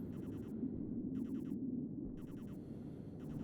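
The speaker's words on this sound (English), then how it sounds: "It's a dust storm!" A dust storm rages in the video game Stationeers: a steady, loud low roar of wind runs throughout, with brief hissing bursts pulsing over it at regular intervals.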